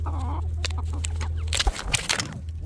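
Chickens cluck in short bursts close by, over a low steady hum.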